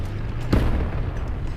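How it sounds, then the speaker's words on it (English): Fuel explosion of a destroyed tank in War Thunder Mobile: a single heavy boom bursts out and rolls into a rumbling decay over a low engine drone. "fuel explosion"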